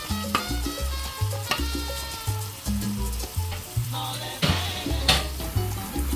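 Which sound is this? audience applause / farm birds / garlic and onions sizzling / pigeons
garlic and onions sizzling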